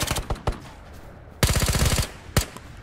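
Bursts of automatic gunfire in the video game Ghosts of Tabor: a few scattered shots, a sustained rapid burst in the middle, then a single closing shot, loud and close.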